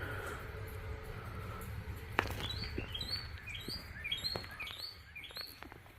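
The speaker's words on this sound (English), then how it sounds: "That bird's out there happy, isn't he?" A small bird outdoors gives a quick series of high, thin chirps over faint background noise, with a sharp tap partway through.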